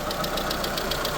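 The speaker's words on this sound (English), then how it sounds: "Just listen to that engine though, sounds good," A Proton Coupe engine runs steadily with a rhythmic ticking pulse over a low rumble, close and moderately loud with no talking.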